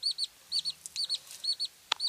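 White Bresse Gauloise hens give short, repeated clucks in quick pairs, close and fairly loud, with a brief sharp chirp near the end and no talk.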